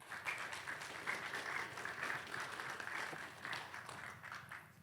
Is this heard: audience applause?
yes